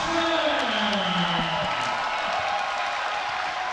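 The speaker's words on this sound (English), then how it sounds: "As we hear the home crowd roaring for the play" A home crowd roars at a basketball game in an arena, a dense loud wash of cheering that holds steady and swells, with a commentator's voice faintly mixed in.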